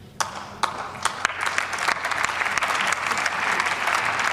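Mixed applause comes from part of a room: scattered individual claps at first, then building into a fuller, moderately loud patter of clapping that continues to the end, with no talking.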